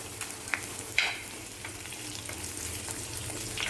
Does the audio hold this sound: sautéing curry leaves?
yes